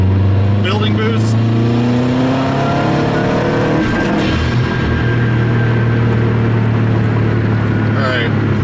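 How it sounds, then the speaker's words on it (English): Tuned 500 hp Subaru WRX engine held at wide-open throttle on a tuning run, a loud, sustained roaring drone with a steady rising pitch as boost builds, close and dominant throughout, with voices faint underneath. "Full throttle, hold it, building boost."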